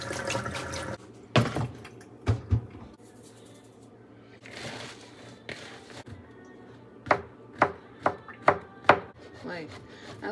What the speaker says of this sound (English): I like chopping things, but when you start like chopping things too fine, it gets like overwhelming.